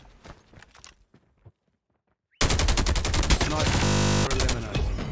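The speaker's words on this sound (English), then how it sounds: "Sentry gun ready to deploy. Sentry gun deployed." In Call of Duty: Ghosts, a deployed sentry gun opens up with loud, continuous rapid automatic fire. It follows a few quieter clicks and a brief silence.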